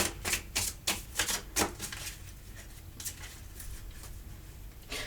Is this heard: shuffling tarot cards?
yes